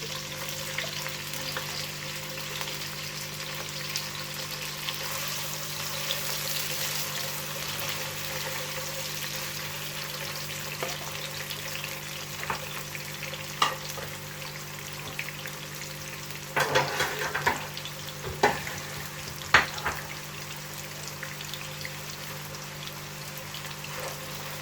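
Onions sizzle steadily in a pan of hot oil for keema matar, a constant close crackling hiss with a few louder stirring clatters along the way.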